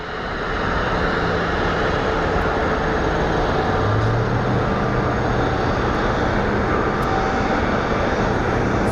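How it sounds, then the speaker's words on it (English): A Southwest Airlines jet at Phoenix Sky Harbor airport gives a steady, loud engine roar that holds evenly throughout, with no voices. "We have a Southwest Airlines lining up."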